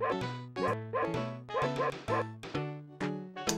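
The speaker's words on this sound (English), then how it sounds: "I hear a dog barking, but I don't see a dog barking." Repeated dog barks in a glitchy Wolfenstein 3D game running on an SNES, coming in a steady rhythm of about seven sharp yaps, loud and close with no talking over them.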